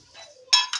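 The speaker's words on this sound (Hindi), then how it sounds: "बर्तन वगैरह भी हम जो है ना अभी जल्दी जल्दी से धो लेते हैं।" Dishes being washed quickly at a home sink, with a couple of sharp metallic clinks of pots and cutlery in quick succession after a soft rustle.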